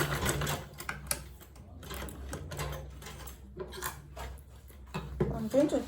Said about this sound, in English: I'll back stitch.